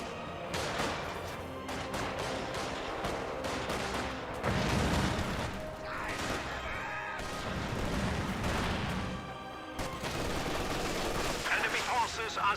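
A battle in the strategy game Company of Heroes 2 crackles with rapid machine-gun bursts and rifle fire, heavy booms mixed in, continuous and dense throughout with a voice speaking over it.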